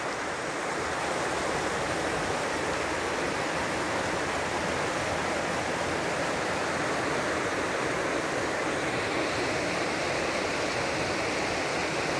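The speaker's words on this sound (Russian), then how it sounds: "Течет вода Кубань реки" The Kuban River flows past in a constant, dense rush of water, a steady broadband roar with no pauses or changes from start to finish.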